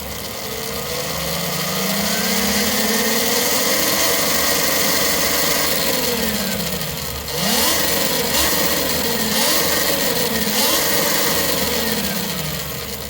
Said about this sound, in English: Okay, now I've turned on the bike. Make sure you can spin the pedals freely, and we start by accelerating very slightly.